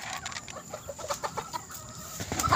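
Backyard chickens cluck softly and repeatedly while being fed and scratching the ground at a small farm, fairly close and alone over a quiet background.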